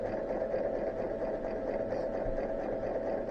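A sewing machine runs a forward stitch with a steady, fast mechanical whir and hum, close and moderately loud, continuing evenly without a pause.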